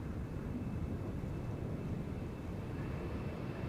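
Embraer 190 jet departing Amsterdam Schiphol on the Polderbaan runway, a steady broadband roar held at even loudness throughout, heavy in the low end, with no voices.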